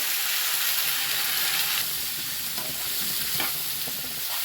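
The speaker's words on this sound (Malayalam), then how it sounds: "നമ്മുടെ എണ്ണ ചൂടായിട്ടുണ്ട് ഇനി കടുക് ഇട്ട് കൊടുക്കണം കേട്ടോ കടുക് പൊട്ടി കറിവേപ്പില കൂടി ചേർത്ത് കൊടുത്തിട്ടുണ്ട്" Mustard seeds and curry leaves fry in hot oil while a Kerala koorka upperi is being cooked, a loud, steady, close sizzle broken by a few sharp pops and stirring scrapes, with no talking.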